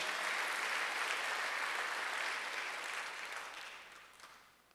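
A church congregation at a Sunday worship service claps together in a broad, even wash of applause that gradually fades over a few seconds.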